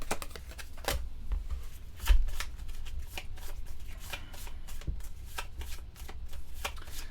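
Cards from the Sentinels of the Multiverse board game being shuffled by hand at close range: repeated crisp riffling snaps and soft card slaps in an irregular rhythm, with no talking.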